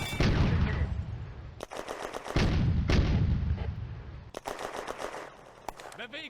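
Gunfire from a World War II Eastern Front firefight in the video game Firefight, with repeated loud bursts of machine-gun fire, heavy booming blasts and rattling volleys. Shouted voices come and go between the shots.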